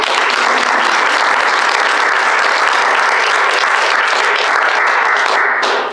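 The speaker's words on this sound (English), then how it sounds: "And so we'll clap now" An audience claps after a school superintendent's budget presentation: dense, sustained applause at an even level, ending abruptly.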